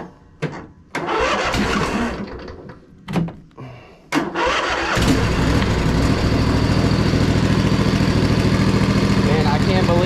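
A zero-turn mower with a rusty starter and a quiet muffler cranks in several short bursts, then catches and settles into a steady, close engine run.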